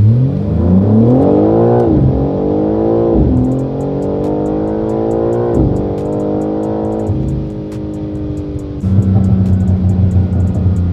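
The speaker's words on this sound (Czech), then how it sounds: "Tady máme ještě rovinku, takže ještě dáme zrychlení" A car accelerates hard down a straight, its engine note climbing through several gears with brief dips at each shift, loud and close in the cabin, and a burbling exhaust over the final stretch.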